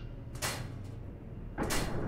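Sliding doors in the sci-fi horror game Syndrome, two separate airy mechanical whooshes as panels slide open, each a short sharp burst over a low humming ambient drone.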